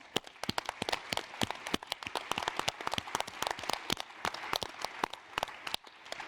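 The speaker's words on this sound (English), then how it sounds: "So give a hand of applause to them too" A conference audience applauds at the close of an event, a steady patter of many hands clapping at moderate distance, continuous and fairly even throughout with no talk over it.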